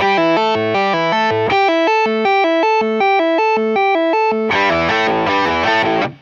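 Electric guitar played through an Eventide H9 pedal preset with heavy effects, distorted with chorus shimmer, a steady run of picked notes building into a thicker, brighter strum near the end.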